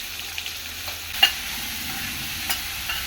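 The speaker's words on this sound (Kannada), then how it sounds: "ಈಗ ಇದಾದಮೇಲೆ ಒಂದು 3 ಈರುಳ್ಳಿನ ಸಣ್ಣದಾಗಿ ಕಟ್ ಮಾಡಿ ಸೇರಿಸ್ಕೊತಾ ಇದ್ದೀನಿ." Three finely chopped onions fry in a pan with a faint steady sizzle and a few light spatula taps, quiet and without speech.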